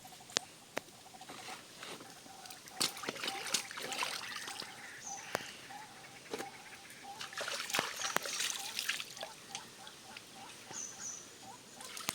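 Water splashes and patters in quick irregular bursts as large fish are washed by hand, with light dribbles and clatters heard fairly faint and close, no talk.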